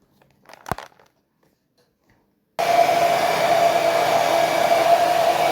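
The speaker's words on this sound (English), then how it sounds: "I just go and put the hairdryer and I turn it on" A hairdryer switches on after a brief click and rustle, then blows with a steady, loud whooshing hum to the end.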